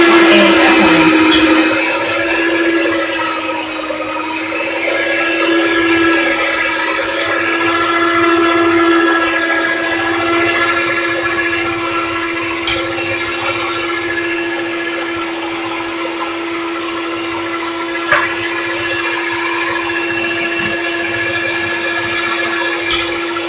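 An electric mixer runs steadily on low, beating eggs into lemon drizzle cake batter with a continuous whirring hum and faint rattles against the bowl, close and constant throughout without talk.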